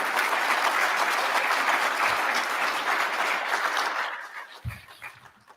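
Graduation ceremony audience for a basic training class claps steadily and loudly for several seconds, then the applause tapers off and fades near the end with a couple of stray claps.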